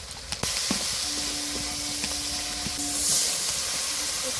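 Water poured into a pan of frying onions and tomatoes with turmeric and salt over a wood-fired clay stove sets off a steady close sizzle, swelling into a louder hissing burst, with a few clinks of stirring.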